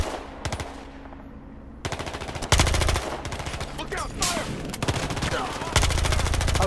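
Gunfire in the video game Battlefield Hardline crackles in rapid automatic bursts, loud and close, separated by short pauses, with a voice briefly heard between volleys.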